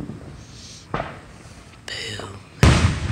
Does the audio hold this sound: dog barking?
no